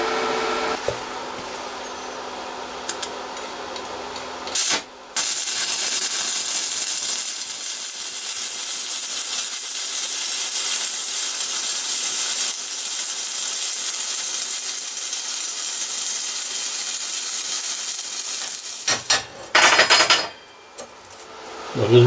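A GYS TIG 168 DC welder run in stick mode with a 3.15 rod on thin sheet metal gives a loud, steady crackling hiss that lasts about fourteen seconds, with brief clicks and clanks before and after.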